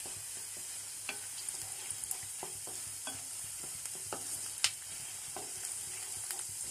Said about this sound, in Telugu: ఈ శనగపప్పు కొంచెం చక్కగా ఫ్రై కావాలి. ఒకసారి మిక్స్ చేసుకుందామండి.